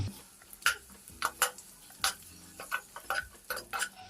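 Paneer being mixed with salt and spices in a pan gives quiet, irregular scrapes and light clinks of a spoon against metal, with a faint sizzle under them and no voices.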